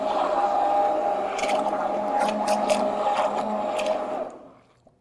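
Vitamix 5-speed 625W immersion blender with blade guard whirring steadily in a pot of cashew cream of mushroom soup, a close, even motor drone with occasional scraping clicks as it moves, then cutting off near the end.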